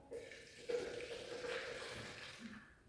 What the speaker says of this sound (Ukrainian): Я беру воду і наливаю у миску